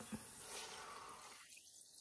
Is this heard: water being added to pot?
yes